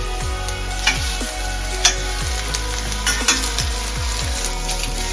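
Sausages sizzle steadily in a hot frying pan, a constant crackling hiss with occasional scrapes and clinks of a utensil stirring.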